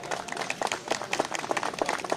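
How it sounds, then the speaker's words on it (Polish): Audience applause at a presidential medal ceremony at a memorial sporting event: many people clapping together, dense and fairly close, with individual claps standing out in an even, continuous rhythm. "Duże brawa."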